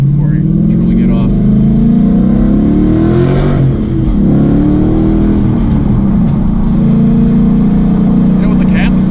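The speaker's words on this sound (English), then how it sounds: "It's like a perfect daily exhaust." A Coyote-swapped 2008 Mustang with catalytic converters and no headers revs loudly. The exhaust rises to a peak midway, then settles into a steady, deep rumble.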